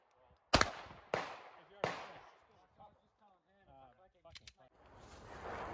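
Pistol shots ring out on a USPSA match stage: three sharp, loud reports in quick succession, then quieter handling clatter and a couple of faint pops, with range noise rising at the end.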